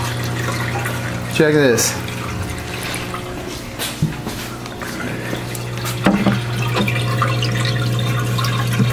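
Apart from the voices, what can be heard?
water flowing through aquarium sump filter socks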